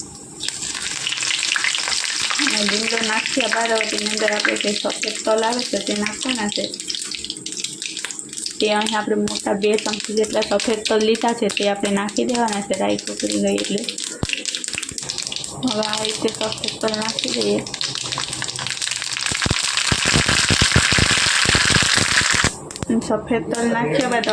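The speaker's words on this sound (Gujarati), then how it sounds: "અડધી ચમચી જેટલી આપણે રાઈ નાખવાની છે અને રાઈ પકડે તો તેની અંદર આપણે લીમડો નાખી દઈશું" Oil sizzles and crackles steadily throughout as mustard seeds and curry leaves fry, with a voice talking over the frying.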